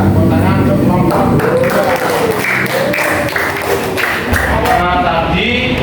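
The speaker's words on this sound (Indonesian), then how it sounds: "Ya, tepuk tangan untuk kelompok" Students in a classroom applauding a second presenting group, a busy mix of clapping and thumps under voices that talk throughout.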